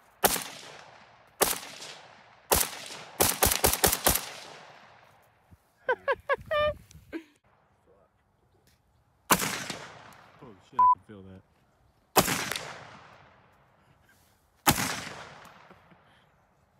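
Gunfire from a firearm, loud close sharp reports, first single shots, then a quick burst of five rapid shots, then more widely spaced single shots, each with a ringing outdoor decay. Brief voices and clicks fall between the bursts.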